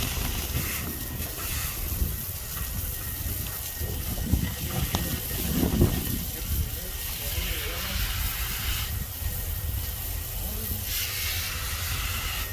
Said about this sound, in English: Pour spray water on it, brush it off.